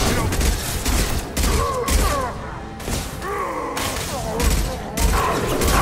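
A Mass Effect 2 firefight rattles with bursts of gunfire, thuds and mechanical clatter, dense and loud throughout, with brief dips between volleys.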